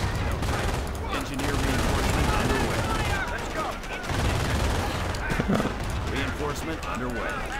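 Battle from the video game Company of Heroes, with machine-gun fire and a fusillade of gunshots in dense, continuous bursts, loud and close, mixed with a speaking voice.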